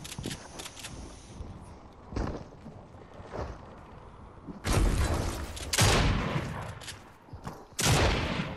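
Bursts of gunfire in the Fortnite video game, several loud broadband volleys arriving in irregular clusters, the heaviest late in the stretch, over a steady background of game ambience.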